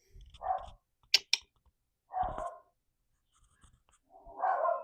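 A dog barks three times indoors, short separate woofs spaced about two seconds apart, moderately loud, with a couple of sharp clicks in between and no talking.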